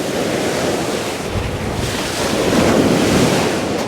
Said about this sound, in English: Just wait for the wave.